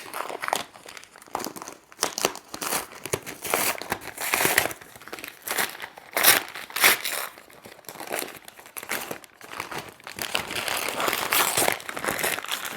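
Packaging for a new MacBook Neo laptop is torn and crumpled open in continuous close, loud crinkling and ripping bursts with no talking.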